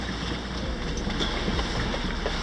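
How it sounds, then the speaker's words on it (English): A sailboat runs about eight miles offshore at night in a steady wind of 8 to 15 knots; a continuous broadband rush of wind and water against the hull fills the scene, unbroken and fairly loud. "So we're night sailing and the winds were 8 knots."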